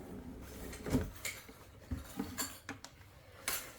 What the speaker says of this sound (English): Appears that this may be a drawer